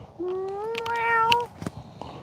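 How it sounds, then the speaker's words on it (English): A cat meows once, a long rising and falling meow close by, followed by brief clicks and rustles outdoors at a fishing spot. "There's the kitty."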